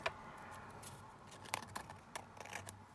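Scissors trim a small piece of paper card for a vintage envelope craft project, giving several quick, faint snips and crisp paper rustles spread across a few seconds in a quiet room.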